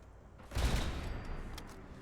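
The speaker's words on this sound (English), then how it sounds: "Now we just sit back and watch the show, and hopefully it doesn't skip targets because the reload's long." A burst shotgun, the Winchester City Killer, fires in Fallout 4: one sharp rattling volley erupts and tails off into a fading rumble, with fainter cracks following.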